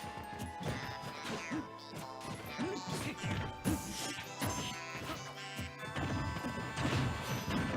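Sharp smash hits and whacks from Cloud's up smash in Super Smash Bros., a rapid string of impacts over busy game music and crowd noise.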